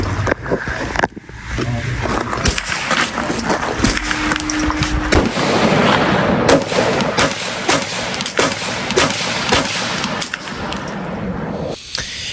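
An AR-15 rifle fires during a training session: rapid, dense reports and sharp cracks sound over a busy, noisy background for the whole stretch.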